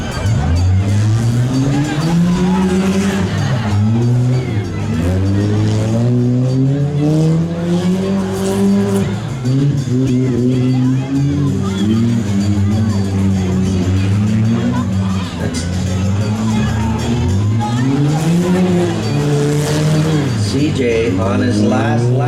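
Figure 8 race cars at the Bolton demolition derby roar continuously, their engines rising and falling as they rev through the turns, loud and close, with crowd hubbub running underneath throughout.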